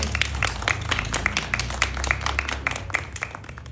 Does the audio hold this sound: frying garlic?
no